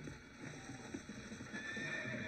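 A horse whinnies and neighs while its hooves clip-clop steadily in Red Dead Redemption: Undead Nightmare, fairly quiet with a constant game ambience underneath.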